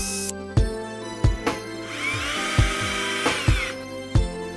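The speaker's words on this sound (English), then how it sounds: "Drill pilot holes." A power drill whirs in a few short bursts amid clattering knocks and thumps, with one longer, higher-pitched stretch drilling pilot holes for the legs of a sewer-pipe planter, close by.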